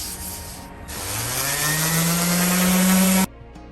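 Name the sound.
sanding a wooden side table's finish with 80 grit sandpaper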